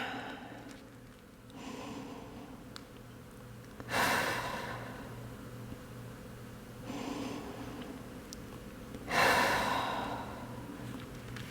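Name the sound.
deep breathing during a yoga stretch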